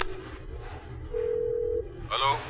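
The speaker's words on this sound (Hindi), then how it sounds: "कादर भाई को फोन लगाता हूं।" A telephone is dialed: a steady dial tone holds for under a second, followed by a quick run of dialing beeps, with a voice talking around it.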